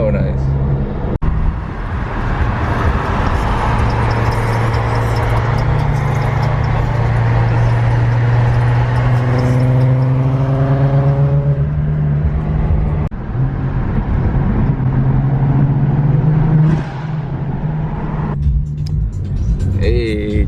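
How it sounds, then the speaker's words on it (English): A naturally aspirated car engine with a deep, throaty tone revs up and settles repeatedly, loud and close, with people talking over it. "car sounds so good, naturally aspirated, super deep tone"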